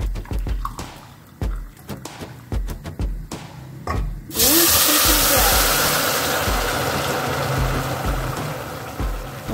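Stirring and scraping in a pan, then a sudden loud, rushing sizzle as hot water hits frying rice for Greek-style rice, hissing continuously and slowly easing.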